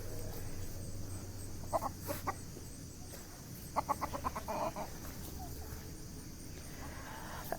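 Chickens cluck on a farm in a few short bursts of fowl calls over a steady low rumble of outdoor background noise, with no one speaking.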